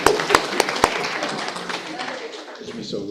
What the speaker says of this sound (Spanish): Claro, claro, un aplauso.